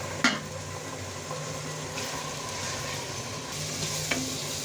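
Chopped onion fries in mustard oil in a pan for a spicy duck curry, a steady close sizzle broken by a few sharp scraping clinks of a stirring spoon against the pan.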